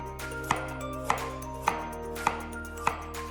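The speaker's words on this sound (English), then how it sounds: "I'm going to slice the carrot." A knife slicing through a carrot on a cutting board, five evenly spaced sharp chops close up against a faint steady hum, no voices.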